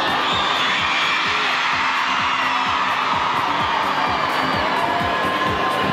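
Stadium crowd cheering during an athletics 10,000 m race walk as the Kenyan walker moves to pass the Indian on the back straight. A steady, dense roar with scattered whoops runs unbroken throughout.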